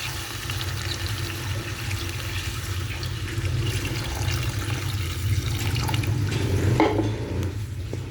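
Water from a tap pours steadily into a cooking pot of pork, a continuous close splashing rush that grows slightly fuller over several seconds.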